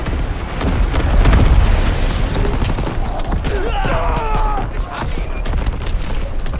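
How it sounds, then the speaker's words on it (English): Incoming artillery shells explode in a World War I–style shooter game, a dense barrage of booms and rumbling blasts layered over battlefield noise, loud and continuous, with shouted game voices mixed in. "Incoming enemy artillery!"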